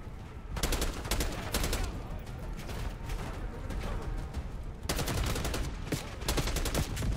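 Dense, continuous gunfire from a first-person shooter, Call of Duty Black Ops 6, with bursts of rapid shots layered over a sustained roar of battle that swells louder near the start and again after the midpoint.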